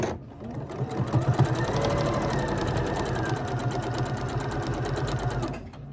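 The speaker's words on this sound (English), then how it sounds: "flip it over on this piece, and stitch down this at a 1/4 inch seam" A sewing machine stitches a quilt block at a quarter-inch seam, whirring fast and steadily up close for several seconds before stopping.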